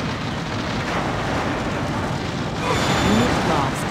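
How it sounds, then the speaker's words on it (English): Loud, continuous roar of battle effects from the game Command & Conquer Zero Hour during a naval war, with a particle cannon blast and rumbling explosion swelling toward the end amid game voice lines. "Particle cannon activated."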